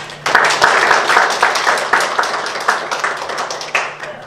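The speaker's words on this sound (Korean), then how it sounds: "박수 한번 부탁합니다." A crowd at a kimchi launch event applauds steadily, many hands clapping in a dense, fairly loud patter that swells slightly and then eases off.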